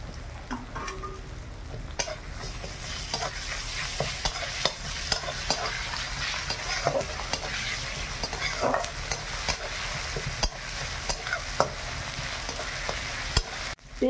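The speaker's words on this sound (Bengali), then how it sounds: "পেঁয়াজ রসুনটা খুব সুন্দর ভাজা হয়ে গেছে।" Onion, tomato and garlic frying in a pan for a village-style Bengali dish, a steady close sizzle with stirring scrapes running throughout, no voices.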